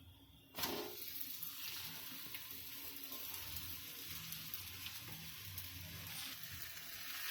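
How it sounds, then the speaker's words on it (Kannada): A chapati fries in oil on a hot tawa, a steady close sizzle that starts abruptly after a brief quiet moment and holds for the rest of the clip, with faint scraping from stirring and no talking. "ಈಗ ತವಾ ಕಾದೈತ್ರಿ ಸ್ವಲ್ಪ ಎಣ್ಣೆ ಹಾಕ್ತೇನ್ರಿ ತವೆ ಮೇಲೆ ಚಪಾತಿ ತಗೊಂತೀನಿ ಇದನ್ನ ತವೆ ಮೇಲೆ ಹಾಕ್ತೇನ್ರಿ"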